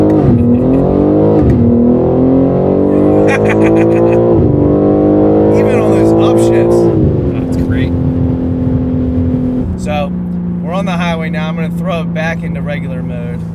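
Inside a BMW G80 M3 Competition with a Fabspeed full turbo-back exhaust in full race mode, loud engine tones climb and drop through several gear changes. The engine stays loud and close throughout, and voices are heard over it.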